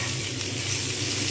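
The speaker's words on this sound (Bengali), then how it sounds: "একটু হালকা করে ভাজবো, আর একটু ভাজতে হবে।" Pointed gourd sizzles with onion paste in a hot pan, giving a short, even, close-up frying hiss.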